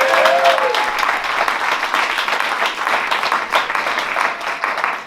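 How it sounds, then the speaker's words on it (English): A concert crowd at a jazz tribute gives a sustained round of applause that fills a hall with dense, even clapping from start to finish, with faint cheers mixed in. "give a wonderful round of applause and appreciation to Mr. Dawood Williams, Barbara Williams, their family, their whole team"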